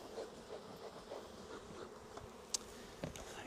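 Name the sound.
honey bees buzzing around opened hive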